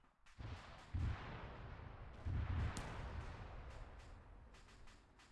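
Anti-tank rocket launcher fired at a BTR in the Arma 3 video game, faint booming blasts with a rumbling tail, a couple of heavier thumps amid a distant roll of battle, and no talk.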